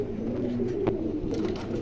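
A pigeon coos steadily at close range, a continuous low burbling call that runs unbroken through the moment with no voices over it.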